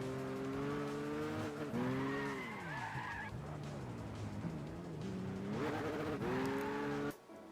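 In Gran Turismo 6, a racing car drives hard with its engine whining and shifting pitch as the tires squeal repeatedly through the corners, loud and continuous throughout.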